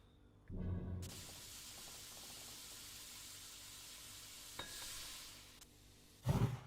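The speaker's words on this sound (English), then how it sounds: "I want to try frying a steak." Steak frying in a cooking video game, with a steady sizzling hiss that runs almost the whole time, a soft thump at the start and a louder burst near the end.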